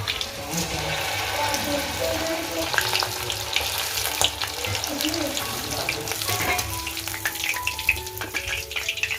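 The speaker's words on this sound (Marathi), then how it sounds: "आणि एक एक कोळंबी हां तेलात एक एक सोडायचं आपल्याला" Batter-coated prawns are dropped one by one into hot oil, giving a loud, continuous bubbling sizzle close by with small splashy surges.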